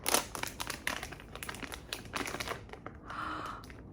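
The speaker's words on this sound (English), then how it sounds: "And it's got a little rip tab." Crinkly plastic of a Pop Mart blind-box bag being torn open at its rip tab, a burst of close crackling and rustling with a short tearing rasp near the end.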